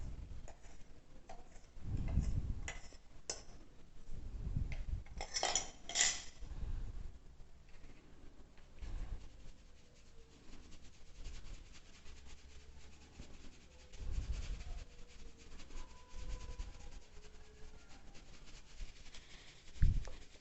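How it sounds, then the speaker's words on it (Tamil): Mixer-ground moong dal powder is sifted through a sieve in a quiet kitchen, with soft, uneven rubbing and patting strokes and a few faint taps. "மிக்சியில் அரைச்ச பாசிப்பருப்பை இப்போ நல்லா சலித்து எடுக்க போகிறோம்"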